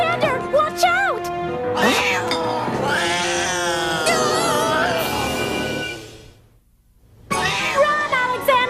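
A cartoon cat yowls and meows in a long, warbling, rising-and-falling cry, loud and close amid music, breaking off briefly into near silence before the noise resumes.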